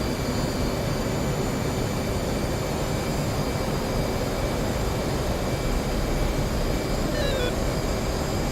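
An F/A-18C jet engine in flight in the DCS World combat simulator over the Marianas, giving a steady, loud, unbroken roar with no talk.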